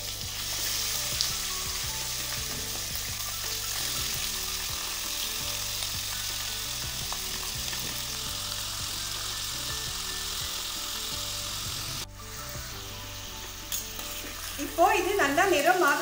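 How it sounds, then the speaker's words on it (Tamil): Half a kilo of cleaned mutton fries in hot oil with a steady, even sizzle, close and constant, for mutton curry with field beans; near the end the frying dips briefly, then stirring and clatter resume. "மட்டன் அரை கிலோ இருக்கு அதை இதில் போட்டுக்கிறேன்"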